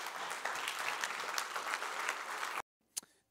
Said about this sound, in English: So let's give them a round of applause as they come on up.